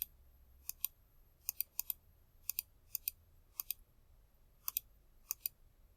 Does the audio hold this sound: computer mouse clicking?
yes